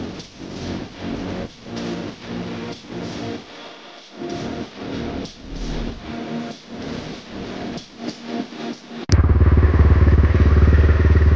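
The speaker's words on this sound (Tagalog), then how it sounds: "showcase muna natin yung ating motorsiklo before tayo mag high speed" Mostly scraping, sliding and clattering handling noises, then a Motorstar Explorer 250 v2 motorcycle engine starts abruptly near the end and settles into a loud, close idle.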